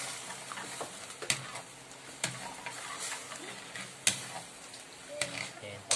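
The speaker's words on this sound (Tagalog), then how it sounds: "Habang kumukulo siya, haluin po natin." Stirring a boiling fishball sauce thickened with cornstarch in a pan: soft sizzling and simmering with occasional sharp clicks of a utensil against the pan.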